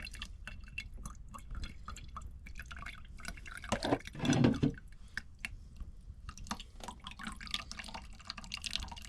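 Water drains and drips from freshly rinsed artemia brine shrimp in a strainer, faint irregular trickles and wet squelches with a brief louder splashing burst midway, close and quiet with no talking.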